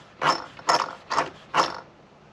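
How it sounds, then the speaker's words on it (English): Cush drive of a Traxxas XMAXX Ultimate 8S RC truck clicking as it turns, four evenly spaced mechanical clicks with a slight ratcheting texture, close and fairly quiet with no talking. "these Cush drives are not round. You can hear it."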